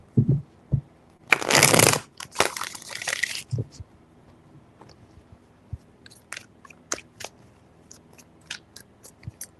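Tarot cards being shuffled close up, a loud riffling burst followed by softer shuffling, then a string of light card taps and flicks.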